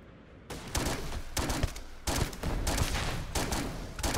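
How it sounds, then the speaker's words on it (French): Rapid bursts of gunfire from a weapon that fires two bullets per shot in the video game Starfield, loud and close, with several sustained volleys separated by brief gaps and no talking. "Ça tire 2 balles à chaque fois."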